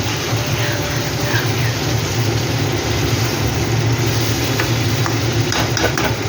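Papda fish curry with brinjal frying in a pan gives off a steady, loud hiss and bubbling sizzle as water is added, continuous and close, with faint clinks of utensils.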